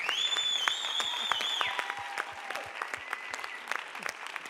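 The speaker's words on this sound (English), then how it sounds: "please give our guests another round of applause" An audience claps steadily, with many hands producing sharp crackling patter, while faint tonal sounds ring out over the applause.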